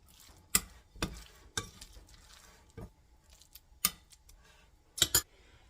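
Dates are stirred into oatmeal cookie dough in a bowl, producing soft, irregular clicks and scrapes of a spoon against the bowl, a handful of sharp taps spaced apart over quiet.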